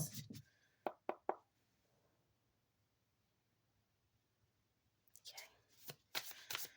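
Tarot cards are shuffled close by in a quiet room, with a few sharp riffling bursts at the start, a silent pause, then more fluttering shuffles and taps near the end.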